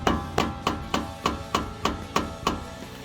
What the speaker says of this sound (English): Take a hammer and see if I can break it loose.